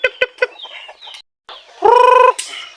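Hens and chicks around a backyard brooder make short, sharp clucks, then a loud, drawn-out cackling call, close and clear with brief pauses and no talking.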